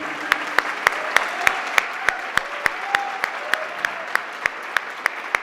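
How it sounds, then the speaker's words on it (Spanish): A small audience claps in a steady, even rhythm, the individual sharp hand claps distinct and close, continuing throughout. "le pido un aplauso para José María Muscari."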